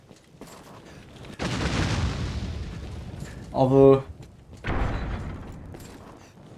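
In the fantasy action game Dragon's Dogma: Dark Arisen, two heavy booming explosions erupt a few seconds apart, each a broad rumbling burst that fades slowly, with someone briefly speaking and a short mechanical tone between them.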